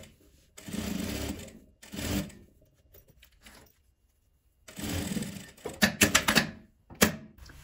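A sewing machine topstitching a seam runs in several short, loud bursts of rapid mechanical stitching, separated by pauses and a few sharp clicks and clatters of handling near the end, with no talk.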